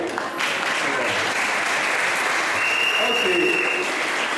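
Audience applause at a cultural day gathering of former students of Lycée de Kimwenza, a steady crowd clatter filling the whole stretch with a brief spoken word at the start.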